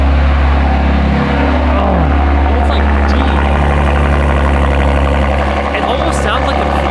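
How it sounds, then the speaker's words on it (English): BMW G87 M2 inline-six on a cold start with its titanium equal-length exhaust valves open, a loud, deep, steady high-idle rumble close by, continuous and throbbing throughout. "So now we're gonna cold start it with valves open"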